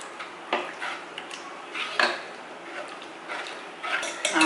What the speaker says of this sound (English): I'm just going to mash it up a little bit.